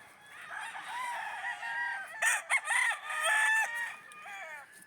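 Roosters crow close by at a farm poultry yard, several overlapping calls rising and falling in quick succession with no talking.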